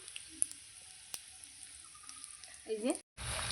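Dried red chillies spluttering briefly in hot oil as a tempering for a Bengali home-cooked dish, a soft crackle that swells near the end with a sharp stir, then cuts off.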